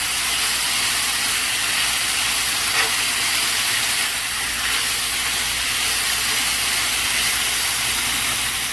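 Peppers and onions sautéing in a pan that just held steak give a steady, broad hiss and sizzle, continuous and fairly loud throughout with no talk.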